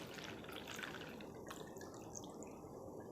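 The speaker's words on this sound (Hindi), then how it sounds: "पानी डालता हूँ।" Water pours steadily into a plastic glass, giving a continuous close splashing trickle that stays fairly quiet and even for about three seconds, with no speech.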